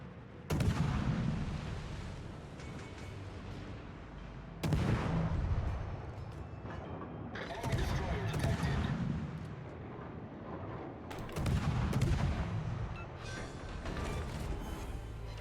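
Ship guns in a naval battle video game, a ranked match with a Z-52 destroyer and Midway carrier, let off several heavy booming salvos spaced a few seconds apart, each followed by rumbling decay and battle noise.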